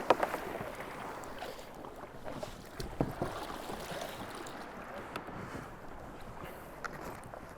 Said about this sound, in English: So let's launch the kayak, get out there